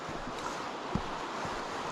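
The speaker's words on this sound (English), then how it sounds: "water cascading over the little weir there, just to the right of the corner, where it cascades over the flat rocks" Water cascades over a small weir onto flat rocks at Morralee Tarn, a steady, broad outdoor rush with a soft thud or two and some wind buffeting the microphone.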